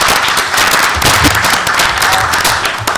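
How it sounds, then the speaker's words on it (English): Dense, steady applause at a city council meeting fills the whole stretch, a broad wash of many hands clapping at once with no voices standing out. "Let's give that another round of applause."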